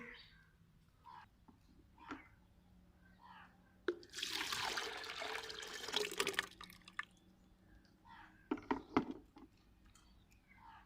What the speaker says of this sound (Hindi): तो अब हम इसे एक जग में निकाल लेंगे।